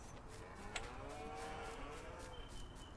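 Cattle in the Farming Simulator 19 game mooing repeatedly over a steady farmyard ambience, with a few distinct moos standing out at moderate distance and no talking.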